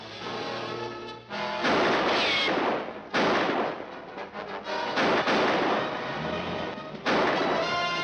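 Gunfire from a shootout scene in the film Satan's Satellites, loud repeated bursts of shots and booming impacts in several waves over a continuous rumbling soundtrack, with no talking.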